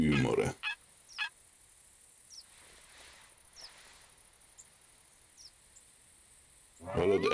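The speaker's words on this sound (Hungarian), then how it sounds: "Hívni kell a pulykát." A turkey call in theHunter Classic video game sounds as a few short, faint yelping chirps spaced out over quiet outdoor ambience, framed by louder bursts at the start and end.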